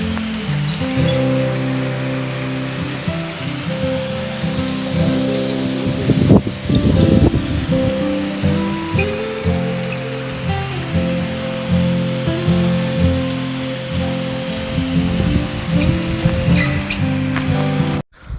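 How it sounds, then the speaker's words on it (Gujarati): Drizzling rain in a village during a stormy day, a loud continuous patter and hiss on surfaces with faint clinks and a passing rumble, steady for the whole stretch without speech. "ઝરમર આવે છે ત્યારે કેવો આવે છે ને એ જોવાનું છે"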